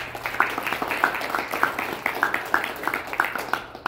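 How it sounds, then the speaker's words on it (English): An audience applauds for the committee and sponsors at the Weslaco High School 2019 Texas Boys State announcement ceremony: a steady, moderately loud patter of many hands clapping, with sharper individual claps standing out. "round of applause to our committee and also our sponsors"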